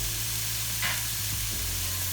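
Fresh herbs and red pepper flakes sizzling steadily in a hot pan, a constant close frying hiss with a brief louder crackle as they hit the oil, no talking.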